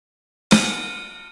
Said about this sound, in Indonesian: Kemudian ketuk secara bersamaan snare dan right bagian tengah.